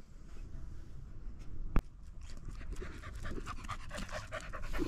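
A female dog pants steadily and fairly close while pushing her head into a fruit tree outdoors to eat the raw fruit, with faint rustling and one sharp click partway through.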